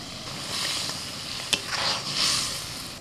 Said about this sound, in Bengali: মশলাটা ফুটতে শুরু করেছে